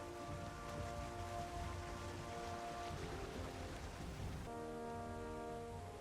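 Steady rain in the video game Valheim hisses evenly throughout, with a sustained tonal music layer over the downpour and no talking.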